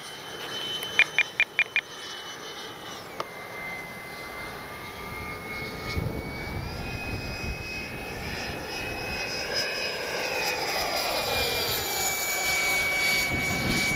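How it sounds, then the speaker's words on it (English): A Durafly Vampire V3 RC jet plane in flight gives a steady ducted-fan whine that shifts pitch as it passes, moderately loud and outdoors, after a few short clicks at the start. "Yeah, that's a good flying plane."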